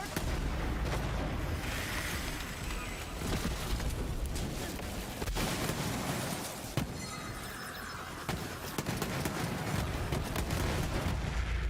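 Rapid gunfire and explosions from the Boomsicle gun in Borderlands 3 keep up a dense, continuous barrage of shots and booms throughout.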